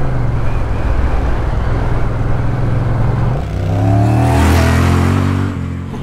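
A Honda Rebel 1100 motorcycle fitted with a Coffman's Shorty exhaust, loud and close, holding a steady engine note before a sharp throttle blip that swells the revs and then drops away.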